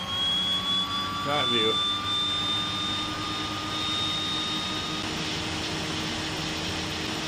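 Left engine of a DHC-6 Twin Otter spinning up in a flight simulator game, a steady turbine whine with rising tones under a brief spoken remark, continuing evenly throughout.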